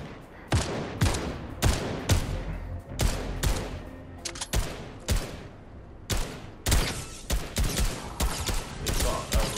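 Rapid bursts of gunfire in the video game Fortnite, loud and dense, with repeated volleys and single shots cracking in close succession across the whole stretch, shotgun blasts among them, and a voice faintly underneath.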